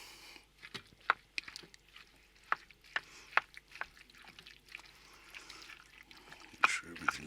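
A spoon stirs spaghetti sauce with ground beef in a pot, giving soft wet clicks and scrapes at irregular intervals, quiet and close, with no talking.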